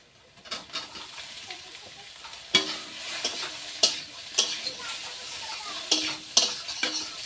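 Boiled taro stirred and fried in a pan, with a steady close sizzle broken by several sharp scraping stirs of the spatula at irregular intervals.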